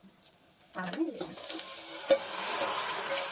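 Semiya vermicelli fries and gets stirred in a pan, a soft crackling sizzle with scraping stirs and a light clink, close and quiet.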